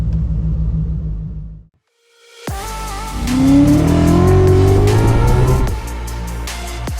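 An S197 Mustang fitted with a Paxton Novi 2200 supercharger rumbles, drops to brief silence, then bursts into a loud close-up rev with a climbing whine layered over deep exhaust rumble.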